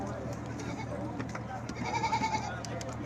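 A goat gives a short, clear bleat amid chatter and bargaining at a goat sale. Voices talk close by throughout.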